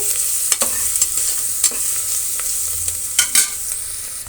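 Onion fries in a pan with ginger-garlic paste for a veg biryani, giving a steady bright sizzle broken by scattered scraping and stirring knocks from a spoon, close and with no one talking.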